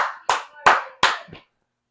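Four sharp, spaced bursts of hand claps, loud and close, each trailing off quickly before silence, with no voices.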